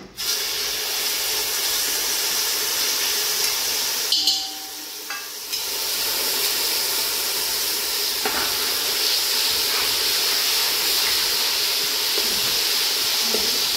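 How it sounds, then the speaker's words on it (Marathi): Sliced bananas frying in hot ghee, a steady close sizzle and hiss that runs throughout, with a short quieter dip partway through and no talking. "तर अगोदर तुपात आपल्याला केळी तळून घ्यायची आहे।"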